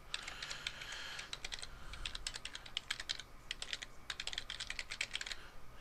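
Rapid typing on a computer keyboard while entering an FTP address, irregular bursts of close, crisp key clicks with short pauses, no voices.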